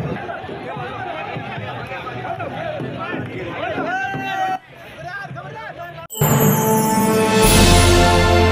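A large crowd of devotees fills a Shimga festival procession in Chipplun, Ratnagiri, with a steady hubbub of mixed voices and chatter that swells into a louder, denser roar of crowd noise and music near the end.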